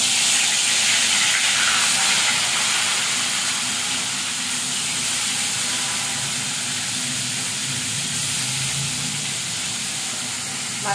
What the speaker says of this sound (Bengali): এবার আমি মাছটা ভাজার জন্য কড়াই দিয়ে নিচ্ছি।